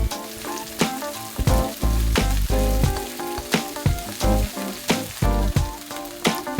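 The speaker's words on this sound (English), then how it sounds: "Stir fry for a short time, and then add in the dried red chili peppers" Garlic, ginger, green onion whites and dried red chili peppers stir-fry for Kung Pao chicken in a loud, steady sizzle. A spatula scrapes and clacks against the pan again and again, and nobody speaks.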